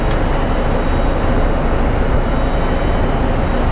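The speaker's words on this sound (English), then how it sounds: "Looks like an American Airlines A320." An American Airlines Airbus A320 airliner at Phoenix Sky Harbor airport gives off a loud, steady broadband jet roar that holds constant and close throughout, with no voices.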